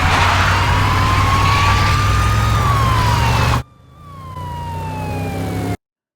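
Fire engine siren sound effect in an edit, a loud rising and falling wail over a low engine rumble that abruptly drops out, then returns quieter and cuts off before the end.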